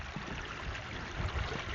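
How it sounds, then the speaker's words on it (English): A babbling brook on a hill walk along the Annandale Way near Beattock, heard as a short, soft, continuous wash of flowing water. "Lovely babbling brook."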